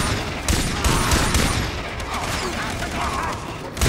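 Sustained rapid gunfire in Far Cry 3, including pistol shots, loud and close, with dense overlapping bursts and rumbling vehicle and game noise throughout.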